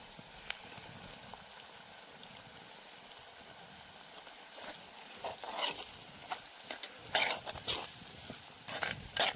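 Green peas and green garlic stirred into a frying pan while cooking a green turmeric curry, with a low steady sizzle and occasional scraping clatters from the spoon that grow busier toward the end, no voices.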